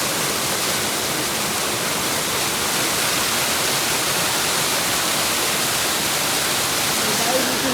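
Steady, loud broadband roar of a waterfall behind a village, filling the whole clip without pause or change, close and continuous with no voices.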